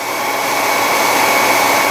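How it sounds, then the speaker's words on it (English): A hair dryer on its heat setting blows steadily and close over a part of a 1/72 Sinanju model kit, a continuous airy roar with no talking. "I'll switch my hair dryer to the cool setting and cool it down"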